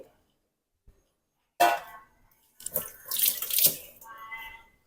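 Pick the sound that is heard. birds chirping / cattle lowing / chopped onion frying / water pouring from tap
water pouring from tap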